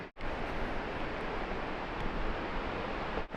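The huge upper falls of Mesa Falls roar in a continuous, dense rush of falling water, loud and unbroken from start to finish.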